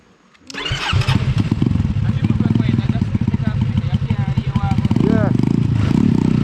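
A Yamaha MT03 motorcycle engine fires up after a quiet start, then idles and revs loudly up close with a rough, pulsing rumble that climbs in pitch near the end, while people talk over it.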